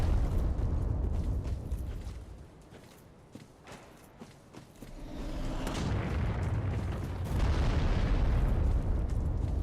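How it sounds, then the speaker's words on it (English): Gunfire in a dark Souls-like video game comes as heavy, booming shots and low thuds over a rumbling ambient backdrop, with several blasts spaced across the clip. "I hear someone shooting at me"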